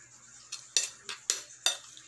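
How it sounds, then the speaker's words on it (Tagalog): A utensil stirs egg through sardine sisig in a pan, giving four or five sharp scraping clinks at an uneven pace over a low steady hum, close and fairly quiet. "hahaluin po natin para yung egg maluto"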